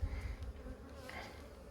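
Honey bees buzz loudly around an open mating nuc during a queen check, a dense close droning that swells at the start and carries on throughout.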